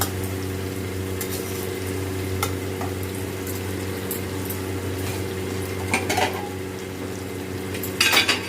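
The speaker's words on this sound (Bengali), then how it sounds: "এবার ডিমটা এই চিকেনের সাথে ভালো করে নেড়ে ভাজা ভাজা করে নিতে হবে।" Egg and chicken stir-fried together for dhaba-style egg chicken tarka: a continuous sizzle and fry with intermittent metal spatula clanks and scrapes against the pan, louder clatter near the end, no talk.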